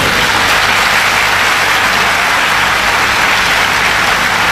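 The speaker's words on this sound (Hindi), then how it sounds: "तो लोग तालियां बजा रहे हैं" An audience at a talk gives sustained, even applause, a dense wash of many hands clapping at once that holds steady and fairly loud throughout.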